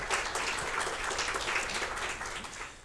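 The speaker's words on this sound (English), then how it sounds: "Big applause for Vladimir" An audience applauds a guest speaker at a science café event, a dense, steady wash of clapping from many hands, held at an even level throughout.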